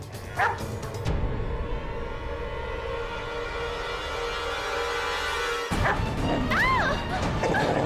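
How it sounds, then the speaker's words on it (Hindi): A dog, one said to have attacked several people, gives short yelps and whimpering barks at the start and end, with a long stretch of broad crashing noise between them. "ये कुत्ता कई लोगों पर हमला कर चुका है।"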